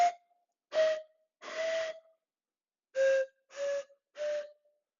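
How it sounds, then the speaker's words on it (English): Six short breathy notes from a pan flute made of PVC pipe, each a distinct tone with airy hiss, played alone in a halting sequence with brief pauses between. "So that is the pan flute."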